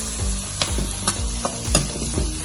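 Broccoli, onions and capsicum sauté in a pan with a steady sizzle, while a spoon or spatula stirs them in repeated scraping strokes, close and fairly loud.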